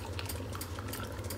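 Water sputters and pops from the steam wand of an Atomic stovetop coffee machine after extraction, a quiet close bubbling hiss with soft crackles and no voices.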